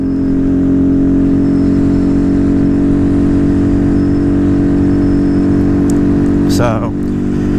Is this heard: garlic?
no